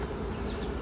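Dense, steady buzzing of many honeybees in a hive during inspection, close and continuous, with no voices.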